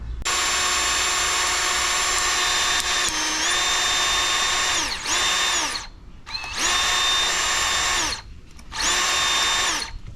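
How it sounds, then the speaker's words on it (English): A power drill bores small holes in the door of a 1963 Impala coupe to mount door staples, a loud steady whine cut into three runs with brief pauses, the motor pitch dipping slightly as the bit bites. "let me just drill these holes right there and install the staple"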